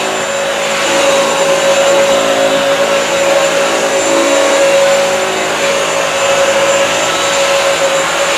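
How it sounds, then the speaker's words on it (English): A Bissell CrossWave 1785A wet-dry vacuum mops a rug on its rug setting, giving a loud, steady motorized whine with a constant tonal hum that runs unbroken from start to finish. "I've got it on the rug setting, so it puts down twice as much solution, and I'm pulling the trigger."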